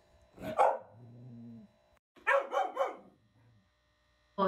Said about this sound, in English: The creepy footage shows the uploader's pet dog barking and freaking out over something that it seems to notice outside.